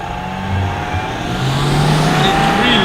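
A Volkswagen Touareg V6 TDI SUV in sport mode with manual shifting accelerates hard toward 100 km/h, its engine note climbing steadily in pitch and growing louder, heard close from inside the cabin with no talk.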